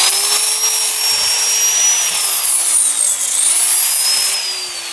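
An angle grinder's disc scours rust and scale off a wood stove door handle, making a loud, close, continuous high whine with slight pitch sweeps as the load shifts, tapering off at the end.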